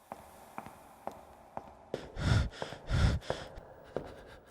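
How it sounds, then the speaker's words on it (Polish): Heavy, ragged panting from a creature in the horror video game Vanish, with two loud, close breathy bursts in the middle and softer footstep-like thumps before and after. "On tak dyszy, choćby, do mikrofonu mówił."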